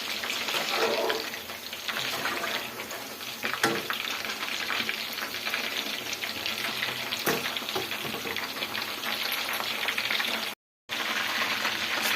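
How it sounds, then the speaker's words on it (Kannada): Homemade chicken lollipops fry in hot oil, giving a dense, steady sizzle that continues close and loud almost without a break, apart from a brief moment of silence near the end. "ಎಲ್ಲ ನೋಡಿ ಈ ಥರ ಫ್ರೈ ಮಾಡ್ಕೊಬೇಕು"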